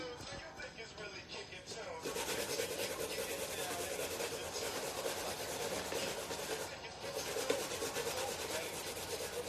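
Carrots grated by hand on a grater for a vegan carrot cake, a steady rough rasping scrape that runs close and continuous, starting softer and growing denser after the first couple of seconds.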